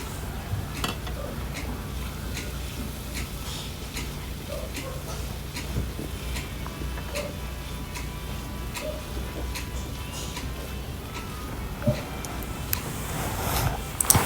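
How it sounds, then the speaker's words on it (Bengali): Cut okra frying in a pan, giving a steady low sizzle throughout with regular light ticking taps of a utensil, close and even, with a few louder clatters near the end. "এখন আমি দিয়ে দিব কেটে রাখা ঢেঁড়সগুলি।"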